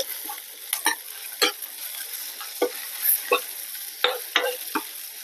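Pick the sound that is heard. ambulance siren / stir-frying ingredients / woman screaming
stir-frying ingredients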